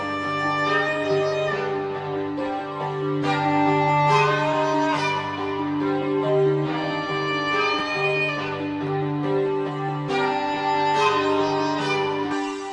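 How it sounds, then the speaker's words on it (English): A string double bass preset from the Sakura plugin in FL Studio plays a simple repeating melodic pattern, with sustained bowed-like tones, sliding pitches and a steady, full level throughout and no talking. "I chose this string double bass preset."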